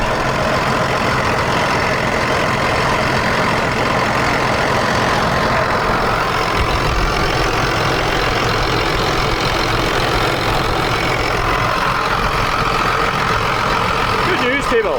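John Deere 7810 tractor engine running steadily while carting grass on the road, a constant loud diesel drone with a brief clatter near the end, no talk over it.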